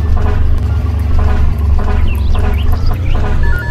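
Isuzu FXZ 360 truck engine in Farming Simulator 19, a steady loud low idling rumble with faint higher whines over it, heard alone without speech.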